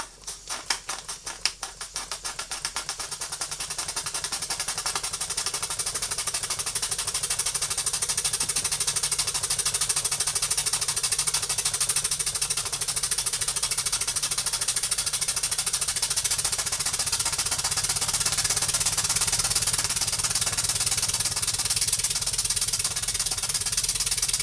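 A Hawaiian over-type steam engine runs up to speed: rapid puffing beats quicken over the first seconds, then merge into a steady, fast, even chugging patter that continues throughout.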